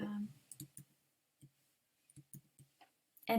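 Several sharp computer mouse clicks, close and fairly crisp, spaced irregularly across a quiet stretch, with a brief voice at the start and end.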